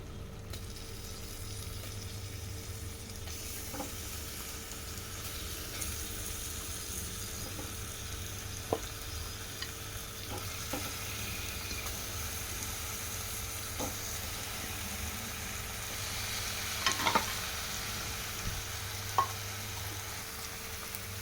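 Fish pieces fry in a pan for a Telangana-style fish curry, giving a soft, steady sizzle close by, with occasional light scrapes and taps from stirring. No voices are heard.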